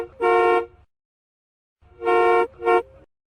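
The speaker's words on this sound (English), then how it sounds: "car," A car horn honking three times: one long blast, a pause, then a long blast followed by a shorter one, loud, close and clear with no other sounds.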